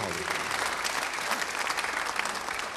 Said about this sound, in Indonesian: Beri tepuk tangan yang baik buat Tuhan.